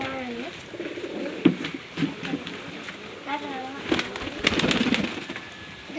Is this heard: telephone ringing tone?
no